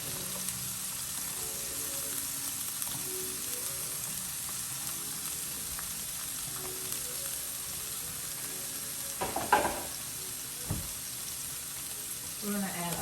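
Green beans and minced garlic sauté in a hot pan with a steady, close sizzle and hiss, broken by a few clatters of stirring.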